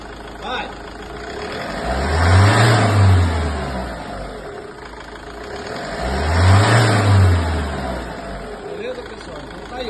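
A Hyundai Terracan 2.9 diesel engine revs up and falls back twice in slow swells from a steady idle, close by, with someone talking over it.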